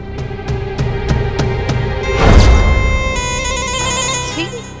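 A telephone rings with a regular repeating pulse, then a louder electronic ringtone melody takes over, with a brief swell of background noise between.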